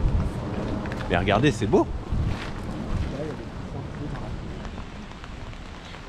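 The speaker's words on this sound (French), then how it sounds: "Là ça y est, il a commencé un peu à pleuvoir." Light rain falls outdoors in San Francisco on a cold day, a steady soft patter mixed with wind noise on the microphone while someone speaks French over it.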